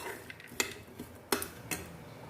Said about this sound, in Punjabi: ਸਾਰਾ ਡਰਾਈ ਫਰੂਟ ਪਾ ਲਾਂ ਇਹਨੂੰ ਮਿਕਸ ਕਰ ਦਿੰਨੇ ਆ